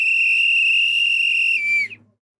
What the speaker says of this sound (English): They might as well go ahead and blow that whistle for the final hydration break.